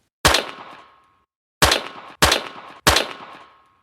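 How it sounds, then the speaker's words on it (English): Four sharp gunshots ring out on a recorded emergency phone call inside a home: one shot, a pause of over a second, then three more in quick succession, each loud and decaying with a reverberant tail. "4 gunshots are heard."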